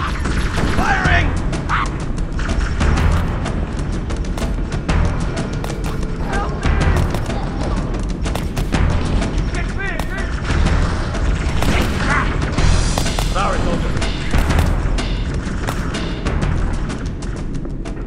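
Gunfire and explosions in Halo's Pillar of Autumn level: a loud, dense barrage of shots and booming blasts that runs continuously without a break.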